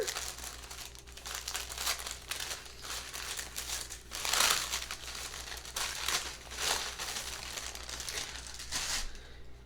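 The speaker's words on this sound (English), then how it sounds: "So comes wrapped up in some cute little heart paper here with a Splendies sticker." Heart-patterned wrapping paper with a sticker is unwrapped from a Splendies subscription package, close crinkling and crumpling with a few sharper tearing rustles in irregular bursts.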